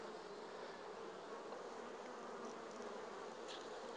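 Steady, dense buzzing of many honeybees on a hive frame, close and continuous, a busy droning hum with no other sounds.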